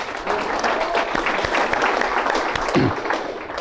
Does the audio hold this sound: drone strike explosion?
no